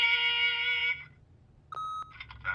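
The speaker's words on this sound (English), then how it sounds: "leave a message at the beep and we'll get back to you as soon as" An answering machine in The Wolf Among Us video game lets out a steady electronic beep, then falls quiet, followed by a brief second tone and a short burst of other sound.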